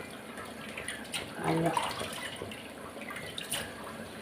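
Water runs and splashes from a tap while greens are rinsed clean by hand, a soft continuous trickle with brief surges and drips, and a voice speaks briefly over it.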